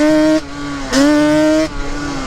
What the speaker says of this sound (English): I can hear the tires doing burning out.